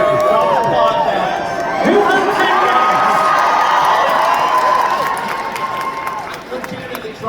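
Audience at a comic con convention panel in Birmingham cheers, whoops and applauds loudly, a dense crowd roar that swells and then fades slightly, with voices mixed in.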